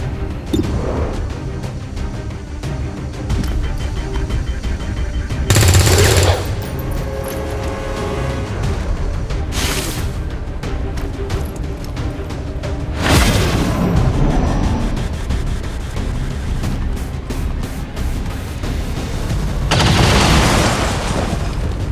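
Combat in XCOM 2 erupts with heavy booms and explosive bursts over a constant rumbling din, with the loudest blasts landing several seconds apart and weapon fire crackling between them.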